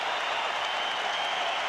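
A basketball arena crowd at an NBA game between the Lakers and the Vancouver Grizzlies gives a broad, steady murmur with scattered applause, continuous and fairly distant.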